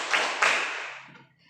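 Two sharp hand claps in quick succession, the second a bit louder, each ringing briefly in a reverberant room before fading.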